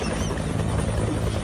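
A helicopter's steady, close rotor drone and whine fills the clip continuously, loud and unbroken with no voices.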